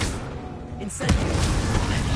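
Incendio fire spell cast in Hogwarts Legacy: a short rising whoosh swells into a loud, sudden burst of flame about a second in, then a sustained crackling roar.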